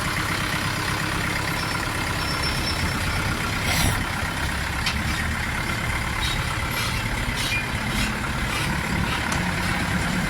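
A diesel engine rumbles steadily as an Orion 504 PRO tractor with a cab drives up onto a truck at a tractor yard, a continuous low drone with a few faint clanks, at moderate distance.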